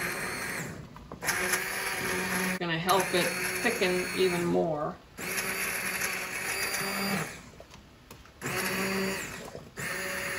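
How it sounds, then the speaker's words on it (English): An immersion blender whirs steadily in bursts through cooking fig jam, cutting out briefly between runs, while someone talks over the motor. "I'm going to opt for my immersion blender."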